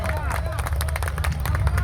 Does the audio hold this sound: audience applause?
yes